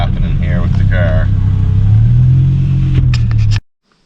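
BMW E60 M5 with a V10 engine and a faulty SMG transmission, heard as a steady low engine rumble with a brief rise in pitch, close and loud, then cut off abruptly; a voice speaks briefly over it early on.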